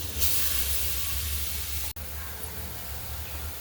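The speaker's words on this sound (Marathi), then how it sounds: "मी कढईत साधारण 3-4 चम्मच तूप घालून घेते आणि गाजर छान" Carrots frying in a few spoons of ghee in a kadhai, a steady soft sizzle and hiss throughout, broken once by a brief dropout.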